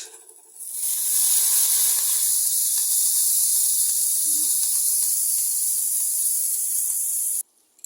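Curry leaves and spices crackle and sizzle in hot oil for a Bengali tempering, a loud, steady, close hiss that starts abruptly after a quiet moment and cuts off near the end.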